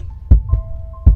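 Three deep heartbeat thuds in a Minecraft horror map, the first and third strongest, paced unevenly over a low steady hum and a faint held tone, with no talking.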